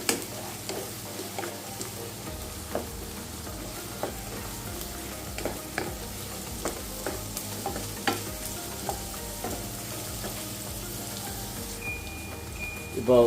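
Beef fry with curry leaves sizzles steadily in a pan, with a regular rhythm of spatula scrapes and taps over the constant frying hiss.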